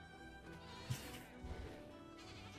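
Electric sheep bleating in the World of Warcraft: The War Within game, a couple of short, quiet bleats over a steady low game ambience with a faint buzzing drone.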